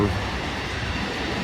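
Freight train rolling toward the tunnel at Gallitzin, Pennsylvania, a steady loud rumble of wheels and cars, continuous and close, with no rhythm breaks.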